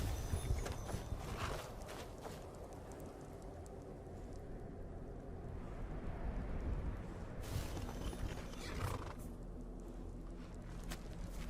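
Horse hooves clip-clop at a steady walking pace from the game Maids 2: Deception, moderately near under a soft ambient wash with occasional brighter bursts, no talking.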